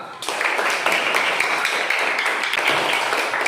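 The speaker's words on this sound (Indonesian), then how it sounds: "Berikan tepuk tangan." Classroom students clap together in a steady, fairly even patter that starts abruptly and keeps going, moderately close in an indoor room.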